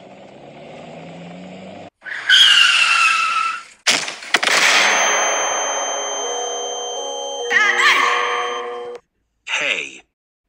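A car skids before hitting a person: a sharp, squealing skid bursts out, followed by a ringing clang and a long fading tone, then a few shorter loud bursts, all close and loud.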